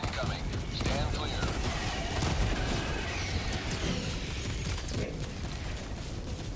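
Orbital barrage shells pound the ground in Helldivers 2, a dense, continuous roll of rapid blasts and rumbling impacts that holds steady at high volume throughout.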